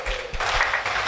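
A church congregation applauds at a fasting and prayer service, a short steady wash of clapping with no talk over it.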